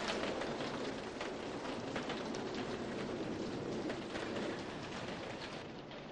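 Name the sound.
rain falling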